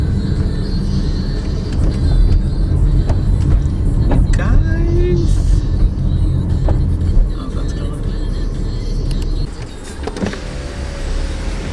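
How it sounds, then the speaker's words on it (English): Car rolling up to Disney's Grand Floridian resort, a steady broad road and engine rumble throughout with a brief whine from a power window and occasional voices in the cabin. "we're about to drive up to the Grand Floridian"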